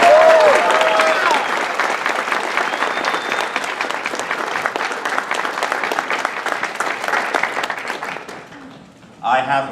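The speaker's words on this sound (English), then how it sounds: "Round of applause." Sustained applause from a panel audience, a dense crowd of claps that is loud at first and gradually thins before stopping, with voices at the start and a brief voice at the very end.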